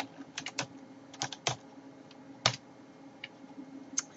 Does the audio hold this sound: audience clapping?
no